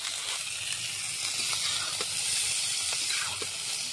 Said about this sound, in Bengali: কফিটা আগে ভেজে নিই, তারপরে আলু, বেগুন, গাজর ওই তিনটাকে একসঙ্গে ভাজবো।